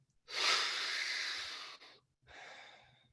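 Slow, deep breaths during a guided breathing exercise: one long airy inhale-exhale lasting well over a second, then a shorter breath after a brief pause, close and soft with no talking.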